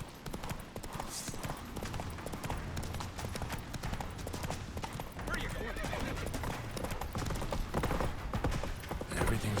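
Roach the horse gallops in The Witcher 3 with fast, rhythmic hoofbeats, loud and close, and a whinny rises early on while people speak over the clatter.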